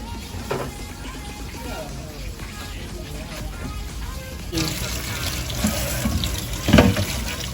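Food is washed under a running tap in a kitchen sink. The water rushes and splashes steadily and grows fuller midway, with a clunk near the end. A person talks over it.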